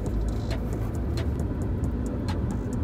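A car driving on the road with a new driver at the wheel, a steady interior engine and road rumble with faint ticking clicks over it, and no one talking.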